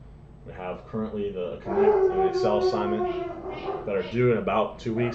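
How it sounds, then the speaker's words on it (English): Dogs howl and whimper in long, wavering tones at close range, running continuously underneath a man lecturing about coursework. "Apologize for the dogs; they're having a tough day."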